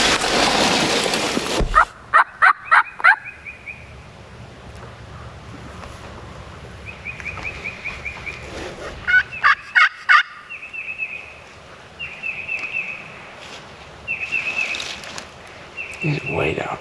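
A wild turkey gobbles several times from the woods, loud, rattling bursts standing out against quiet outdoor air, with a brief noisy burst at the start.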